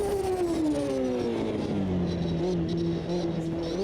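A classic F1 car in a racing video game brakes late, its high engine note sliding steadily down in pitch as it slows, then steadying into a lower drone, loud and continuous.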